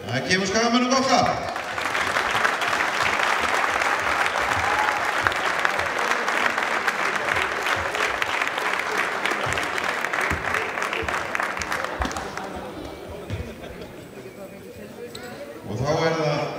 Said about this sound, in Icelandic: Það gefur Skagamönnum gott klapp.